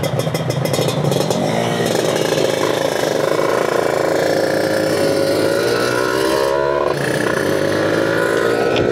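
A motorcycle with a 62mm racing block drones steadily and loudly throughout, its pitch rising and falling with throttle changes, with road rumble underneath and no talking.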